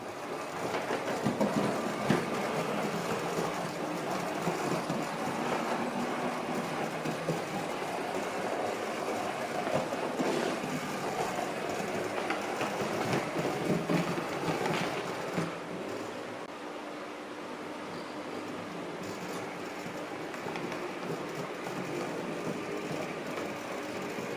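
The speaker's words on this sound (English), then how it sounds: "the loco's freed now from its train, so it can return to the engine shed to be serviced" A locomotive, uncoupled from its train, rumbles along at a steady pace toward the engine shed at Whitby, with a continuous mechanical drone and faint rail clatter, easing slightly quieter toward the end.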